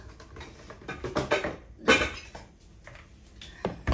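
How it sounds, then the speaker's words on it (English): A bowl taken from a kitchen cupboard, with a series of close ceramic clinks and knocks, one sharp clatter near the middle, then lighter taps. "I'm going to get a bowl."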